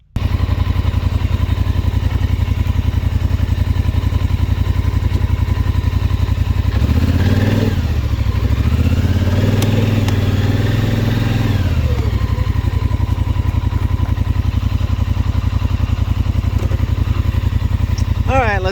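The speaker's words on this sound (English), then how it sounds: "Let me get my 4-wheeler and drive around" A four-wheeler ATV engine runs steadily and loudly nearby, rising in a revving surge midway as it drives off, then settling back to a rough, constant drone.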